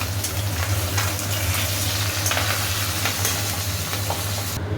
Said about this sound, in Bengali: এই যে মাছ ভাজতে দিয়ে দিয়েছি। কি ফাটছে এই মাছ বাবা!